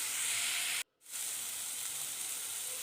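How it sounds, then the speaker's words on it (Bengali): Masala with salt and turmeric sizzling steadily in hot mutton fat for a ghugni. The frying hiss stays loud and continuous, drops out for a brief moment, then resumes. "ভালো করে নাড়াচাড়া করে নিয়ে আর একটু ভাজা ভাজা করে নিতে হবে মশলাটা"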